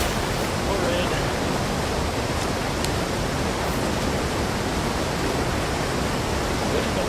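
A waterfall in the fishing game Call of the Wild: The Angler pours in a dense, loud, unbroken roar of rushing water that stays constant throughout.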